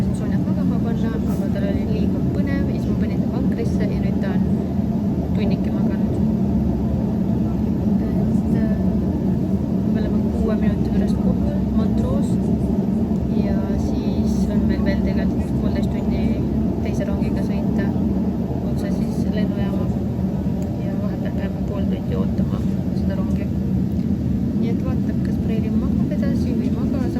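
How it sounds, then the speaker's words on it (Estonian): A car drives on the road from Gstaad to Montreux in Switzerland, with a steady engine and tyre drone filling the cabin throughout while a person talks over it. "Nüüd me sõidame Gstaadist Montroosse"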